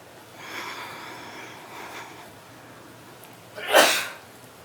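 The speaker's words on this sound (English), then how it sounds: "If you sneeze, bless you." A single sharp sneeze bursts out near the end, loud and close, after a few seconds of quiet breathy background.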